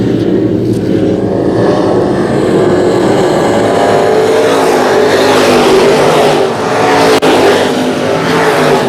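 Stock race cars roaring around an oval speedway track, a loud continuous engine drone that swells and shifts as cars pass through the turns and down the back straightaway.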